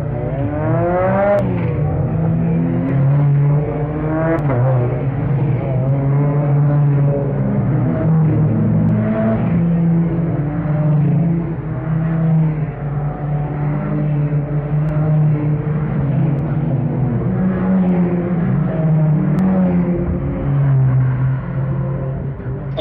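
Vintage race cars of the Trophée Nostalgie set off on a warm-up lap ahead of an eight-hour race, engines droning loud and continuous with repeated revving surges and overlapping exhaust rumble as the pack moves past.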